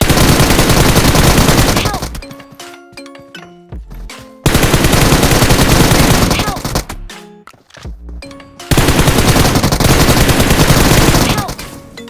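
Gunfire in the PUBG Mobile video game during drop shotting: three loud, sustained bursts of rapid automatic fire, each about two seconds long, separated by quieter stretches of game sounds and echoes.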